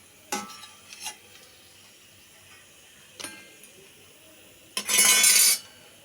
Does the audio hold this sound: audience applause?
no